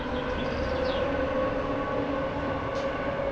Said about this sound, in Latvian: Arī tur aizbraucas divstāvīgais vilciens.